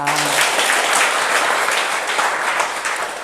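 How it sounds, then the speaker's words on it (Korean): A seminar audience claps for the beginners in the room, dense sustained applause filling the whole stretch at steady loudness with no voices on top. "초보분들한테 우리 박수 한번 보내주세요."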